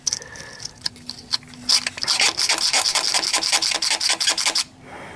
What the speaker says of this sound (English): So I'm gonna grind that down a little more right there.